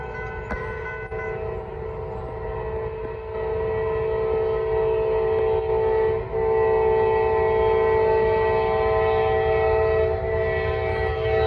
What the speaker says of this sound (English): We got a ballast train, 92X, coming north.